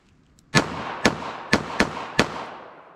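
Five sharp shots from a .38 Special revolver fired at a target about 5 yards away, loud and close, spaced roughly half a second apart, each with a short decaying tail.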